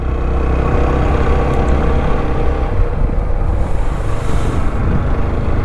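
Close, steady engine drone of a motorbike riding along a winding mountain road, with constant low rumble and wind noise throughout and no speech.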